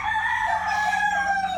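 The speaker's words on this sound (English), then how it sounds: "These roosters are trying to fuck my video up, aren't they?" Roosters crowing outdoors in the Philippines, one long, loud, drawn-out crow close by over a low background hum.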